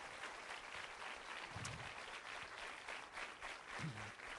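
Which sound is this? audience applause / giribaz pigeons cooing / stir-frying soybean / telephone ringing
audience applause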